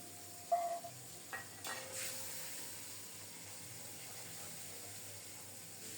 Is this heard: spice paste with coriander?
yes